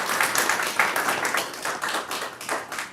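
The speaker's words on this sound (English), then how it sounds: "let us give them applause" Applause for staff achievements at a community college district board meeting, heard as a small group's distinct, rhythmic hand claps, fairly close and steady throughout.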